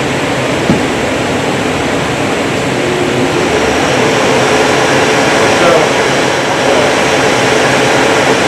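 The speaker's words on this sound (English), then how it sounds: "we're going to turn the vacuum on since it'll work for this cut" A loud, steady roar of a workshop dust collection vacuum beside a table saw runs continuously, broadband and close, with no break.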